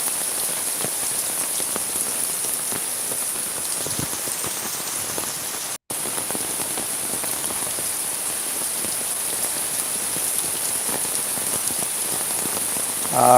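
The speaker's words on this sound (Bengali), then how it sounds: "কী পরিমাণ বৃষ্টি হচ্ছে আপনারা এই বৃষ্টি দেখেই আপনারা বুঝতে পারছেন" Dense, steady downpour of heavy rain in Sylhet drumming on surfaces, constant and enveloping with no pauses or voices.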